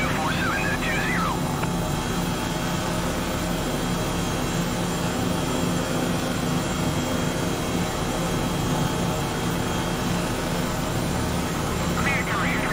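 Simulated airplane on approach to land on runway 24 in a flight simulator game, a steady dense engine drone filling the whole stretch with a brief whistling tone near the start and end.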